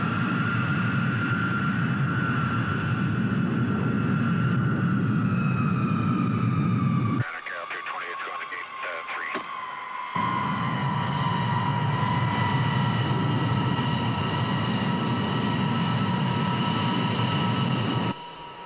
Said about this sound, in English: you're cleared to taxi Bravo to runway 24 and hold